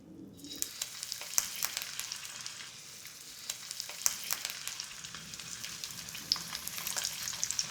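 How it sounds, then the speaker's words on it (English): Fish kebabs frying in hot oil, a close, steady crackling sizzle with frequent sharp pops spread throughout, quiet but continuous. "Those are my fish kebabs ready to fry."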